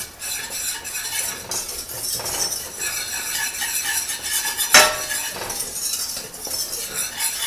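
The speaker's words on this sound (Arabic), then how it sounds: "المهم انه التحريك يكون مستمر عشان ما يتكتل عندي" A utensil stirs béchamel sauce in a pot continuously, close by, scraping and clinking against the metal in a steady rhythm with one sharper clink midway. Nobody speaks.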